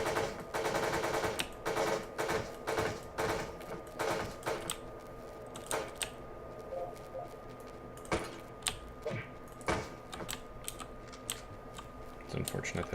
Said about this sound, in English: I think the answer is machine gun.